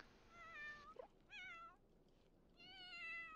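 Cats meowing at a cat hangout object in The Sims 4, several drawn-out, wavering meows in a row, fairly close and clear over a faint background hum, with no talk.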